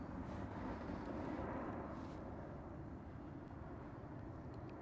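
A KLM Boeing 787 airliner passing at Schiphol Airport, a broad low rumbling roar heard from a distance that swells slightly and then eases off.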